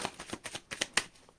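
Rapid papery riffling of tarot cards in several quick bursts, a soft flutter and snap repeating about every fifth of a second, close and fairly quiet.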